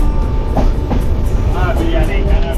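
Loud steady rumble of a train at a railway station, with rhythmic clatter and a squeal, voices murmuring faintly underneath.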